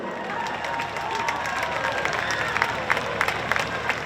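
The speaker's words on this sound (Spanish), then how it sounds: "Aplauso para ella" Festival crowd at a Noia performance applauding a singer after a costume change, mixed clapping and cheering, moderately loud with sharper claps toward the end and voices in the background.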